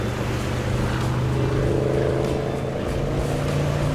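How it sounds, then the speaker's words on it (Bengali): The biggest boat in the video game Off The Road 2 churns slowly through wavy water, its heavy motor a steady, loud drone with a low hum under washing water noise. "আর এটা হচ্ছে এখন অফ দ্য রোড টু এর বিগেস্ট বোট।"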